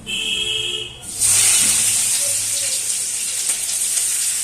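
Chopped onion dropped into hot oil already crackling with nigella seeds bursts into a loud, steady sizzling hiss that holds at full strength after a quieter opening moment.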